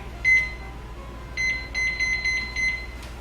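A kitchen timer beeps during meal prep: a short beep sounds alone, then after a pause a run of four or five quick, evenly spaced beeps follows, faint over a quiet room.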